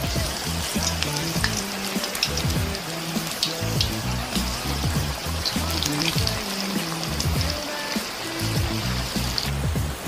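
Onion pakoras (piyaji) made with gram flour, onion, green chilli and cumin sizzle loudly and steadily in hot oil, a dense continuous crackle and bubbling close by with no voices.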